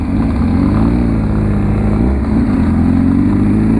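A Honda CB 1000R Barracuda motorcycle revs loud and close, a steady throaty engine roar with slight pitch swells throughout.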